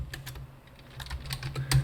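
Rapid, uneven clicks of fingers typing on a computer keyboard, close and clear, in short bursts with brief pauses and no talk.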